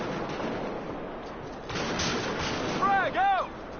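Gunfire in the shooter game Battlefield Hardline, a dense rumbling mix of distant shots and blasts with bursts of louder fire toward the end, plus a short warbling electronic tone.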